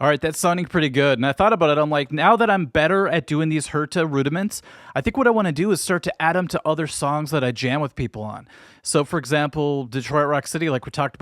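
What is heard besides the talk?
No distinct noise like a dog, phone or traffic.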